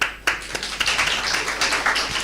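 Scattered applause from an audience at a peace march dialogue session, a handful of sharp claps followed by a brief, loose patter of clapping at moderate distance.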